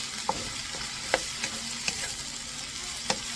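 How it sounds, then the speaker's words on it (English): Tomatoes are mashed and cooked in a pot for Filipino mung bean soup with shrimp and pork, a low steady sizzle broken by about five distinct utensil knocks and scrapes against the pot, no voices. "we're gonna actually gonna mash them in there. So we're really gonna cook them."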